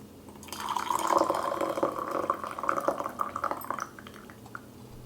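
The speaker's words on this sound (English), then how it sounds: "Pour out the last drop of your tea." Yancha tea is poured out of a gaiwan in a short, close liquid stream lasting a few seconds, which then trails off into a few final drips in a quiet room.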